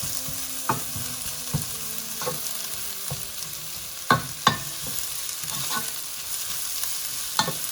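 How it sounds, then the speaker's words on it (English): Three medium onions sauté in a hot pan for a kidney bean dish, giving a steady low sizzle with intermittent louder scrapes and stirs of a utensil against the pan. "Gonna lower the heat a little bit"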